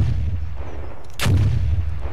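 A single heavy boom from a gun mounted on a flying contraption in Garry's Mod, one sharp blast with a brief rumbling tail over a steady low engine drone.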